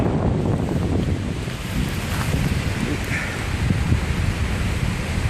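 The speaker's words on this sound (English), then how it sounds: "If this wind keeps going, it's not gonna end." Strong wind roaring through trees during tree removal work, a steady, loud broadband rush with gusting swells and rustling throughout, no voices.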